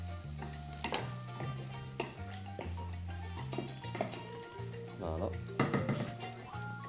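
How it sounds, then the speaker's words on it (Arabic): Onions and boletus mushrooms frying in a pan, a moderate sizzle broken by clinks and scrapes of a utensil against the pan, with faint background sounds. "حنا نحطوا البصل والبوليت هنا على ضربه."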